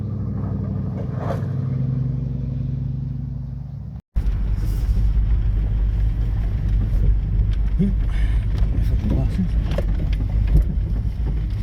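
A Ford Capri's engine rumbles as the car pulls away, a close, steady low growl after a brief cut, with faint talk earlier on.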